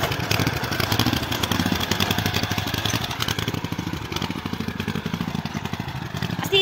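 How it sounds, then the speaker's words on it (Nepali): A motorcycle engine runs close by near a cardamom plantation, a rapid steady chugging idle with clattery pulses and a slight rise in revving toward the end, with no voices over it. "हाम्रो बाइक स्टार्ट भइसकेको छ"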